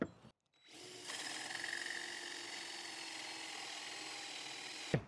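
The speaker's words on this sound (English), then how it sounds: "I'm going to be using this little hole saw" A power drill with a small hole saw cuts through a wooden shelf, a sustained whining grind that spins up after a short pause and holds steady close by, ending with a sharp clunk.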